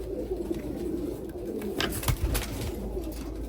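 Freshly arrived pigeons coo in a low, continuous murmur close by, with a couple of brief sharper sounds cutting in midway.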